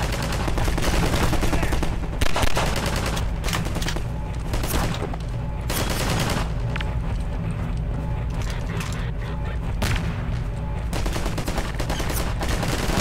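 Rapid gunfire from Half-Life 2 rattles loudly and continuously, with bursts of shots and mechanical clatter layered over dense game noise.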